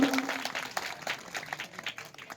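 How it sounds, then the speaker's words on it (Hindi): Crowd applause at a ceremony, faint and brief, a soft scatter of hand claps rising and thinning over a couple of seconds. "इनका जोरदार ताली बजा करके आप सब लोग स्वागत करिएगा"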